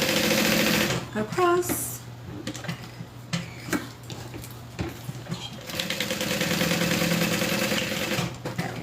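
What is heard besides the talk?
sewing machine sewing a seam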